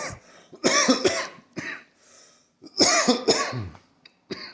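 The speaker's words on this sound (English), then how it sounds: "It kind of sometimes makes me cough after" A series of harsh, close coughs after running, in two clusters separated by a brief pause, with short breathy gasps between them.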